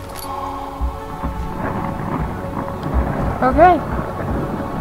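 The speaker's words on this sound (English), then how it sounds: "Why is it raining?" Rain and thunder in the horror game Amnesia The Dark Descent, a steady rain hiss with low rolling thunder rumbles underneath, while a person speaks briefly partway through.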